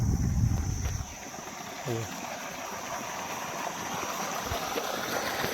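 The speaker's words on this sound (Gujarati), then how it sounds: "કેનલમાંથી એ પાણી સીધું અહીં નીકળે છે" Canal water gushes and splashes steadily out of a pipe, with a voice speaking briefly at the start over the flow.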